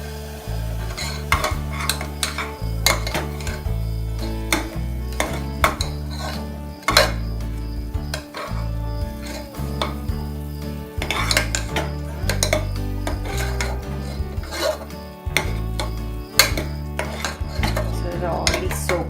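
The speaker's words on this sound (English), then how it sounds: "Then stir it." Spoon repeatedly scraping and clinking against a metal pot while stirring a thick spicy potato curry, with rhythmic metallic knocks and rattles over a light sizzle.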